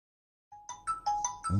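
Redmi A3 phone ringtone, a short melodic sequence of bright electronic chime notes in a quick rising pattern, playing alone and close after a moment of silence.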